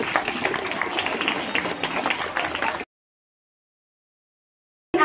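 A school audience claps to welcome the principal at an education event, dense steady applause for about three seconds before cutting to silence, then resuming briefly.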